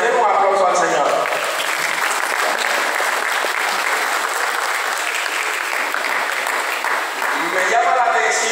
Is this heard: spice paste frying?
no